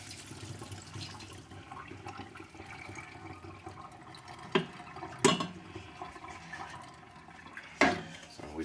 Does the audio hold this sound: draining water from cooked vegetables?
yes